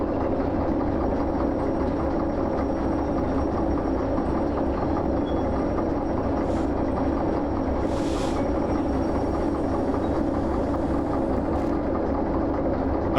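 A locomotive pushes a railcar during shunting in the Derail Valley train simulator game, giving a steady, continuous low rumble of engine and rolling wheels that stays even throughout, with no voices.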